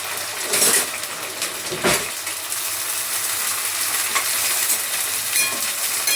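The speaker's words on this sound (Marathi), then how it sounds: "ही भेंडी सगळी आधी तेलामध्ये मला तळून घ्यायची." Okra frying in oil with kokum gives a loud, continuous sizzling hiss up close, broken by a few heavier stirring scrapes, and there is no talking.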